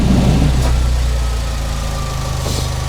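Fiat 500 engine idling with the air conditioning off, a steady low rumble with a slight dip in level after the first second, close and alone without voices.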